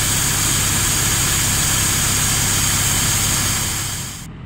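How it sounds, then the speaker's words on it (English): A farm grinder mixer's engine runs steadily at a constant idle-like drone while being filled with creep feed for lamb barns, loud and close, then cuts out near the end. "he's filling the grinder mixer up with the creep feed to bring over to the lamb barns"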